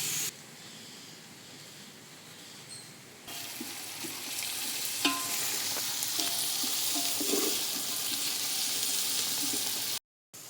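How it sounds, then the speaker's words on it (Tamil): Onions sautéing in a pan with green and dried red chilies for ghee chicken biryani, a steady sizzle and hiss with scattered stirring scrapes, quieter at first and then louder and continuous, with no talk. "வெங்காயம் வதங்கட்டும்."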